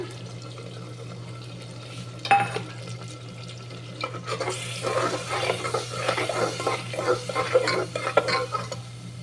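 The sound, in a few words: spices and water cooking in pan, spinach and soybean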